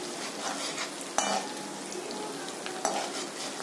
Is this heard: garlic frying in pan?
yes